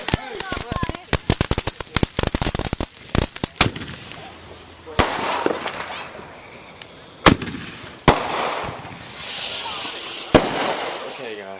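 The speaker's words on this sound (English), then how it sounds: "so the fireworks are going pretty smooth right now" Fireworks and firecrackers go off outdoors at a Fourth of July show: a rapid, dense barrage of sharp crackling pops, then sporadic louder booming bursts with crackle between, while voices talk in the background.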